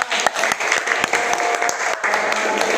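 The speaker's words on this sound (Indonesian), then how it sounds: "Jadi tepuk tangan" Classroom applause from students, a dense patter of clapping with a few sharper individual claps, a faint voice underneath, lasting just under three seconds.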